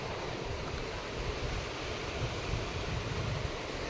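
The fast-flowing Kali river rushes past, a dense, steady roar of water filling the whole scene at moderate level with no pauses and no voices.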